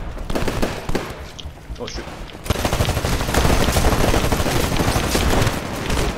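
Rapid smart pistol fire in a Titanfall match, a dense stream of loud synthetic shots over continuous battle noise, with a brief lull before the firing swells again; a player exclaims briefly.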